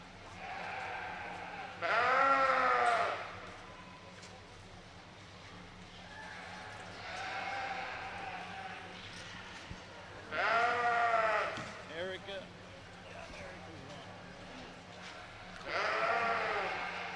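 Breeding ewes bleating at a 2020 Aksarben livestock show, with several loud, drawn-out bleats spaced across the clip over a steady hum and announcer chatter.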